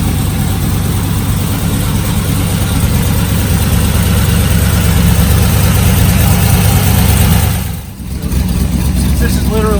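A freshly built V8 engine runs on its very first start, a loud, close, steady idle with a thick low rumble that dips briefly before settling back, and a voice talks over it.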